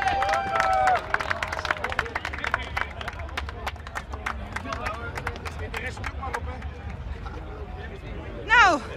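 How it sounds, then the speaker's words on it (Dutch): Festival crowd at the Zwarte Cross clapping after an eating contest, a run of quick, irregular claps over crowd murmur, with a voice speaking at the start and a brief vocal burst near the end. "Applaus."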